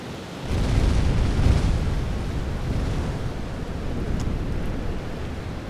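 Depth charges explode very close in the submarine game UBoat, heard as a deep, rumbling underwater boom that swells and then lingers as a sustained low roar.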